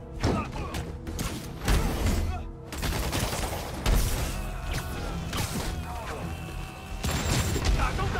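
Rocket fire and explosions in the video game Marvel's Spider-Man Remastered, with repeated booms, thuds and bursts of gunfire-like impacts crowding together in a loud, chaotic battle sequence, with brief game sounds between.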